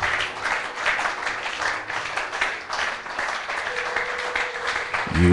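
Many hands clap together during church worship, a continuous, moderately loud applause that keeps an uneven pulse, with a faint sustained tone and a brief low sound rising near the end.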